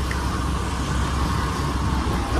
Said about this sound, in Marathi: Traffic traffic traffic.